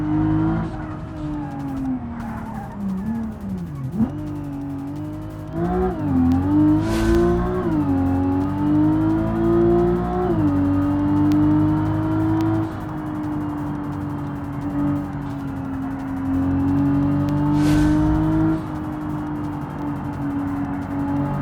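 A car engine in BeamNG switched into sport mode revs hard and steadily, its loud droning note rising and falling through gear changes with brief tire squeals, playing alone without talk.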